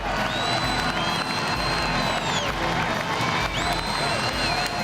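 Roadside crowd clapping and cheering during a street parade in Tampa for the East-West Shrine Game: a dense, continuous wash of applause and crowd noise with whoops and whistle-like cries throughout.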